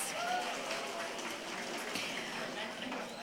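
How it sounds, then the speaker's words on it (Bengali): Applause from an audience at a university event, a steady, moderately quiet wash of clapping sustained from start to end with no distinct pauses. "জোরে করতালি প্লিজ"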